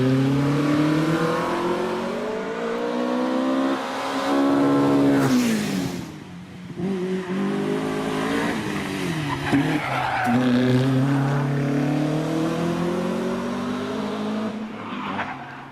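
A hillclimb race car at Prescott slides with its tail out, tyres squealing loudly as the engine revs rise and fall through the corner, continuous and close for the whole stretch.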